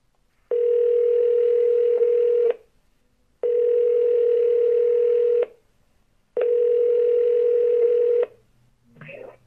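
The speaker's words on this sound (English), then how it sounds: "I'm just calling you through my Google Home." Outgoing call ringing through a Google Home smart speaker: three long, loud, steady ring tones, each about two seconds with even pauses between, followed by a faint click as the line connects.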